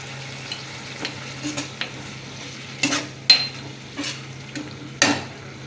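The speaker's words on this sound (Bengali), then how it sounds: "মশলাটাকে আর বেশ কিছুক্ষণ ধরে ভালো করে কষিয়ে নেব" Turmeric, sugar and ground spices are sautéed in a pan for a duck egg and elephant foot yam curry, giving a soft low sizzle broken by scattered scraping and stirring clicks from a spatula.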